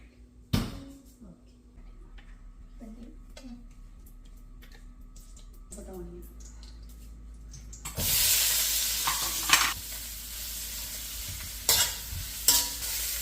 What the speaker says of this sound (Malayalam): ഒരു ഓണിയൻ ഇട്ട് ഒന്ന് സോട്ടേ ചെയ്ത് അപ്പോൾ തന്നെ പോർക്ക് ഇട്ടു.